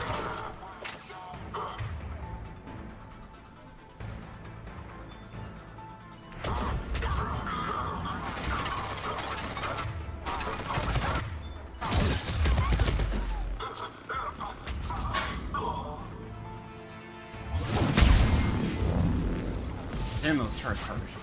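Turret gunfire in Mass Effect 3 comes as repeated heavy bursts and impacts under dense battle noise, swelling louder in several waves, with voices speaking at points.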